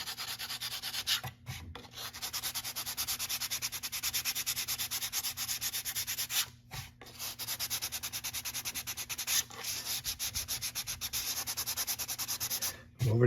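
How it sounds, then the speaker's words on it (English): Hard plastic lightly sanded with 400 grit sandpaper: quick, even back-and-forth rubbing strokes in a steady rhythm, close up, with a few short pauses between runs. "you're going to get like a 400 grit sandpaper, and you're going to lightly sand it."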